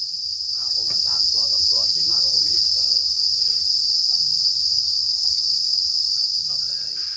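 Crickets on a cricket farm chirp in a dense, unbroken high-pitched drone, loud and steady, while a voice talks quietly beneath.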